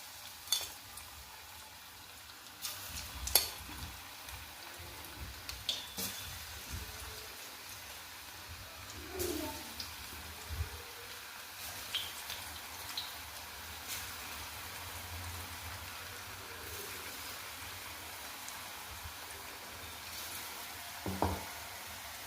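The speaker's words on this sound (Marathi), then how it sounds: "मध्यम गॅसवरती भजी आपण तळून घेऊयात." Bhaji fritters fry in hot oil over a medium flame, a faint steady sizzle with scattered pops and occasional stirring or scraping clicks, soft and close.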